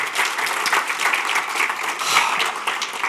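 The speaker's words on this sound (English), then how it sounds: "Let's give one more round of applause," An audience applauds speakers leaving the stage at a product management event, a full, steady round of clapping from many hands, close and continuous for the whole stretch.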